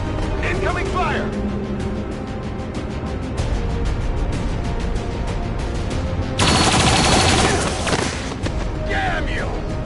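Combat in the strategy game XCOM with loud, continuous bursts of automatic gunfire mixed with heavy booms and blasts. Voices talk over the shooting.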